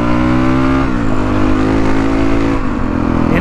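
Honda CRF450L dual-sport motorcycle engine while riding, a loud, close, steady drone that shifts pitch as the rider changes speed, continuous throughout with no speech.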